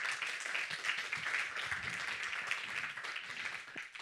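A studio audience gives a dense, even round of applause on a French comedy show, fairly soft and sustained throughout.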